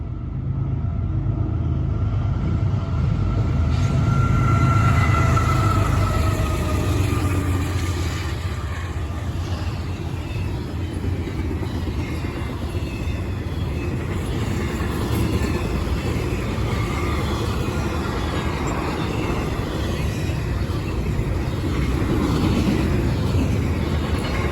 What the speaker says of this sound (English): It was CSX IO-17 with the CSX Spirit of Our Armed Forces leading, and a newly reactivated CSX C40-8